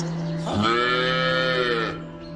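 A bull calf lets out a single long, drawn-out, crying moo, loud and close, that swells and then fades away.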